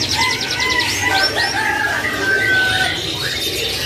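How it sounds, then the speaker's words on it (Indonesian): Canaries of the loper type sing continuously at a bird market stall, weaving fast trills, rapid chirping bursts and long bright whistles over a dense hum of market ambience. "Ini dia sebagian stoknya untuk kenari yang loper yang gacorannya."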